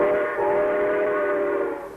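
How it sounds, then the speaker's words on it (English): A steam train whistle from a vintage toy advertisement sounds as one steady, loud, multi-tone blast that holds for about two seconds and tapers slightly at the end, with no talking. "How does a train go?"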